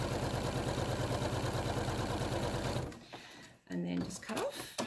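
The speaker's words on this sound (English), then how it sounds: "I'm going to do a top stitch" A sewing machine runs steadily for about three seconds, top stitching the binding on an art quilt with a large stitch, then stops, followed by soft handling sounds close up.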